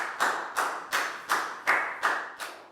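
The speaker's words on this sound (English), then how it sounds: "a big round of applause for Pak Bung" A small class claps in a steady rhythm of about seven sharp, evenly spaced bursts, each quickly decaying, giving a student a round of applause during a Year 4 English lesson; no one speaks.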